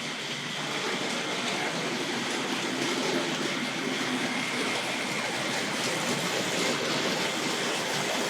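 A Tri-ang Hornby model train, the R.759 Albert Hall locomotive pulling Western coaches, runs continuously along the track with a steady, dense rolling rumble and clatter throughout.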